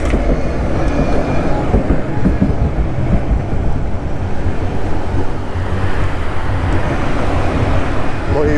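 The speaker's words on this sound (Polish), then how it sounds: "tramwaj się chce ścigać" A street tram rolls alongside a car, a loud continuous low rumble with rail noise that swells and eases over several seconds, heard from inside the vehicle.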